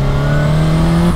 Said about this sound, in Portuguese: barulho de turbo dessa moto é maravilhoso